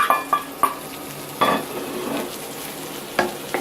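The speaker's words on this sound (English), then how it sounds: "And then I'll add in, this is about 4 or 5 mushrooms sliced." Four or five sliced mushrooms sizzle in a single frying pan as a fork stirs them, giving a few sharp scraping strokes over a steady background hiss, with no voices.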